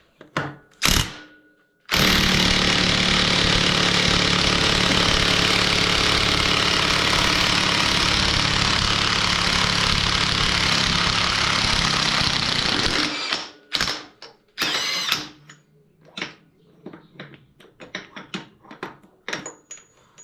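Pneumatic impact wrench driving fasteners on a Speed Kings Cycle chain drive kit during a Harley-Davidson Dyna Lowrider build: one loud sustained burst of about eleven seconds, followed by several short rattling taps and bursts.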